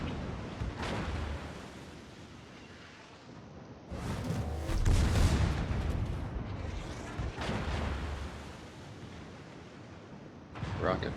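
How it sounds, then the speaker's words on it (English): Heavy naval shell fire from a Kronstadt battlecruiser in a World of Warships clan battle, a dense rumbling barrage with loud booming bursts, one near the middle and another at the end, under a continuous roar. "Kronstadt's shells they're pretty hard hitting"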